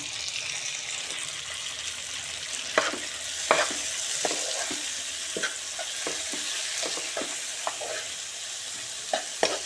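Onions and two large tomatoes sizzle in a pan for paneer matar masala while a spatula stirs them, giving a constant hiss dotted with scattered scraping clicks, close up with no voices.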